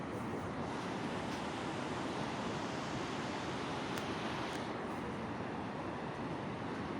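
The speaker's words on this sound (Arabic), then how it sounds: "باش تسمع المواج كيضاربو" Sea waves breaking along the beach at Salé, Morocco, heard as a continuous, even wash of surf with a windy, rushing quality, fairly faint and unbroken throughout with no voices.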